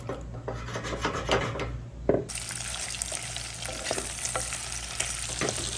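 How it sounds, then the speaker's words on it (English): Smoked sausage browning in vegetable oil in a pan at a camp, a steady sizzle with scraping and stirring strokes and a brief clunk partway, the frying growing brighter afterward; close, no talking. "Have some smoked sausage. We're gonna brown that down first"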